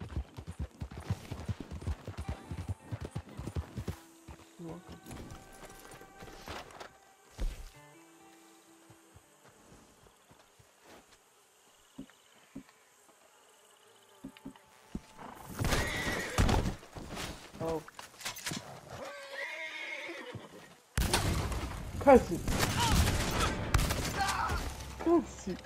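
Horse neighing and hoofbeats from the Red Dead Online video game, with busy bursts of game sound: clusters of activity at the start, a quieter stretch in the middle, then loud dense stretches toward the end.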